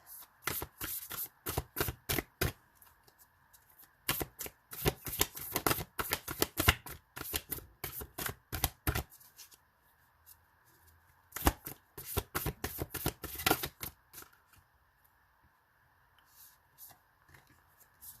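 Oracle cards are riffled and shuffled in quick bursts of crisp slapping and fluttering, close to the microphone, with short pauses between runs and a quieter tail at the end.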